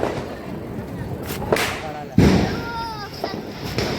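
Diwali firecrackers pop and crack outdoors among a group of people, with a sharp loud burst near the middle and smaller snaps around it while voices chatter throughout.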